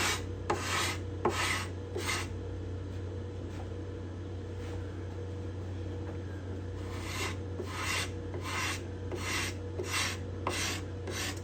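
A scraper shaves shellac off the binding on a cedar guitar top. Crisp rasping strokes sound up close in quick bursts, then a long quiet stretch over a low background hum, then another rapid series of strokes, with no talking.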